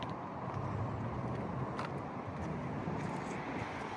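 Diesel engine of a 2024 Ford F-250 King Ranch Tremor, rebuilt after front-end damage, idling as a steady low rumble with a faint whistle of wind over the microphone.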